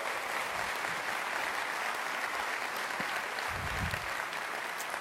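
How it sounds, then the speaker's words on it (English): Applause from a large conference keynote audience for longtime attendees, a continuous wash of clapping heard from a distance and fairly quiet, with a few low thumps and murmurs mixed in. "Let's just give them a round of applause."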